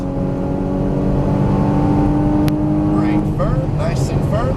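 A Porsche Cayman GTS engine hums steadily on a race track and then builds as the throttle is squeezed, with a faint tire squeal near the end.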